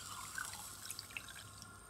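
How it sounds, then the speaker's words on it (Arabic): Water poured onto two cups of brown sugar in a pot to make syrup for cream-filled kunafa, heard as a soft, faint trickle with a few small drips and splashes, close by, with no talking. "هنحط لهم كوبايتين ونص مية"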